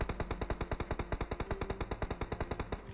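Rapid automatic gunfire from a teammate in a mobile shooting game, about eight even shots per second in one unbroken burst lasting several seconds, crisp and fairly loud with no talking.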